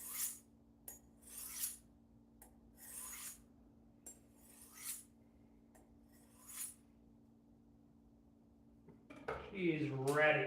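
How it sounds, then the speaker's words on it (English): A kitchen knife blade drawn repeatedly along a honing steel, giving a series of short metallic rasping strokes at irregular intervals against low room hum, before louder clattering and voices rise at the end. "So we're going to make sure we get the blade nice and honed."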